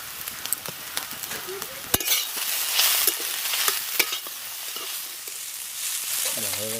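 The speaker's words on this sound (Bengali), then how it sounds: "চাউমিনগুলো ভালো করে ভাজা হয়ে গেছে" Prawn chowmein being stir-fried village-style in a pan, with a continuous close sizzle broken by repeated scrapes and clanks of a spatula against the metal, and no one talking.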